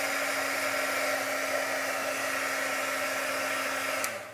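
A hair dryer runs steadily on name tags, a loud continuous whirring blow with a constant motor hum that holds unchanged before cutting off right at the end.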